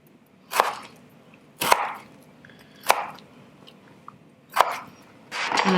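A knife slices raw potatoes for poutine on a cutting board: five sharp, crisp chops at uneven intervals, close and fairly loud, with quiet gaps between and no talking.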